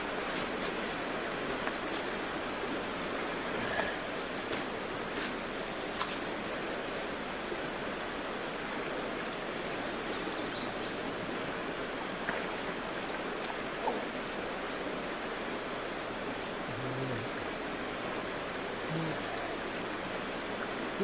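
Chattooga River flowing near a trail campsite at Burrells Ford, a steady, even rushing hiss of water that holds constant throughout, with faint scattered clicks and no talking.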